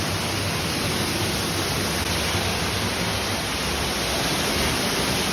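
Glory Hole Falls pouring through a hole in a rock, a loud, unbroken rush of falling water close by, steady and hissing with no voices.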